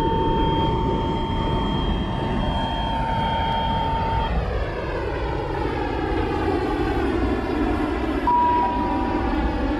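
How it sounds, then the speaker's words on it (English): A 1000 Series metro train rumbles steadily as it departs a station with platform screen doors, with a high whine that drops in pitch as it moves off, then another tone rises near the end. "The train is about to depart."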